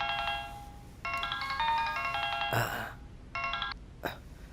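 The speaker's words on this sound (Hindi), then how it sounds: "किसका फोन है?" A mobile phone ringtone plays in repeated melodic bursts, faint and indoors, with short breaks and a breath or throat sound in between.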